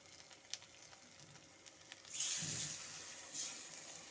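Water pours into a pan holding yam with poppy-seed and mustard paste, a short close splash and rush after a few faint clinks, then a softer sizzle as the pour tails off.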